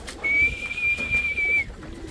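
A pigeon in a loft gives a single clear, drawn-out whistling call lasting over a second, close by against a quiet background.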